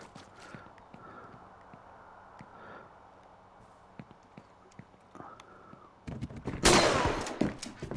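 Enemy gunshots ring out in Horror Tales: The Wine, a scattered series of sharp, distant cracks over a quiet ambient bed, followed near the end by a loud, close burst of noisy crashing.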